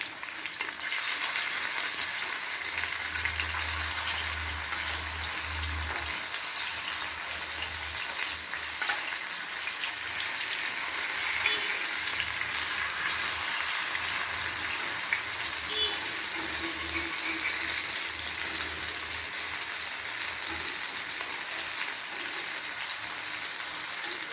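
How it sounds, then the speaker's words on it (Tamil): Pieces of fish fry in a pan of oil, giving a loud, continuous, dense sizzle that holds steady for the whole stretch, with a low rumble early on and no voices. "மீன் நல்லா ஃப்ரை ஆகிடுச்சு"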